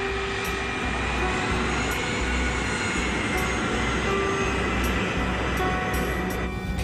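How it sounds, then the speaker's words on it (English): A KLM jet airliner taxis on a foggy runway, its engines giving a steady, loud, continuous roar with faint periodic clicks throughout. "The KLM plane is groping its way through fog."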